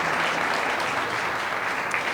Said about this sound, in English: let's just give them all another applause for standing up and to want to represent you as well.